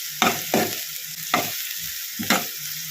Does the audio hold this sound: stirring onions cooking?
yes